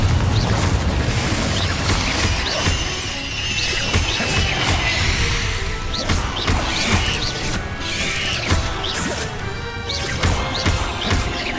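Spell blasts and crashing impacts in Hogwarts Legacy combat on Xbox Series X, a Confringo fire spell exploding among repeated smashing booms and thwacks, loud and dense over a continuous battle din.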